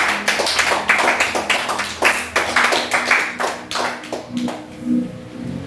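A church congregation at a Sunday service claps in rhythmic bursts to acclaim Jesus, many hands striking together loud and close, the clapping thinning and fading toward the end.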